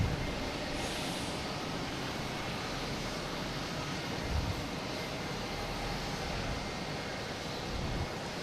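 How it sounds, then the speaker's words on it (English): A Play Airlines Airbus A320neo arriving from Keflavik at Boston Logan gives off a steady broad jet roar, constant and fairly distant, with no voices over it. "Next to arrive is Play from Keflavik and the A320neo."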